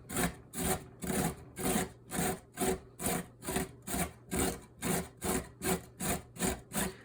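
Raw carrot scraped down a box grater in about fifteen steady, even strokes, each a dry rasping shred, close and fairly loud with no talking.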